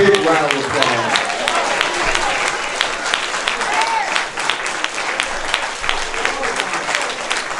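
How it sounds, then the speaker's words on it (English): Big round of audience applause at a gospel salute event, loud and sustained throughout with dense clapping and a few cheers rising over it, steady until the end. "another big round of applause"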